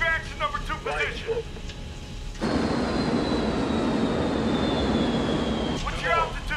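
A loud, steady airplane engine roar in flight from the 1997 action movie Strategic Command runs through the middle, with voices talking before and after it.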